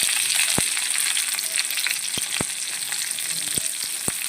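Green chili and garlic sauté in a little oil in a pan, making a constant loud sizzle with a few sharp clicks of a spoon against the pan, and no voices.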